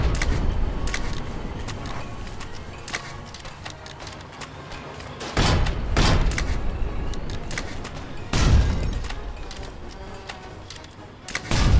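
Heavy artillery cannon shots and gunfire in an online war game, several loud booming blasts spaced seconds apart over a continuous rumbling battlefield background.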